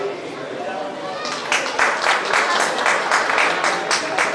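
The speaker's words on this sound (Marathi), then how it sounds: "जोरात टाळ्या होत्या या ताईंसाठी" An audience gives loud applause for a woman who answered a quiz question correctly at a community gathering, crowd murmur building into dense, energetic clapping that continues strongly to the end.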